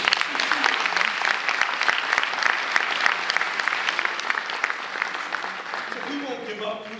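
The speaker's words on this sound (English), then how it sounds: "let's give her a round of applause" Loud, dense audience applause fills the room, many hands clapping continuously before fading slightly, with a voice starting to speak near the end.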